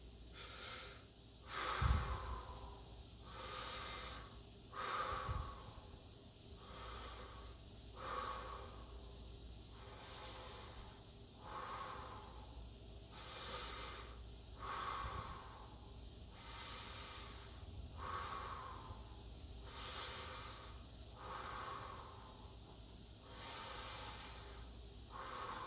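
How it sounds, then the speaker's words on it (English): Vigorous breathing exercise: a person takes rapid, forceful inhales and exhales through the nose, a steady series of close, sharp snorting breaths repeated at regular intervals for about twenty-five seconds. "As vigorously as possible, just as if you were inhaling for breath after you've run a mile."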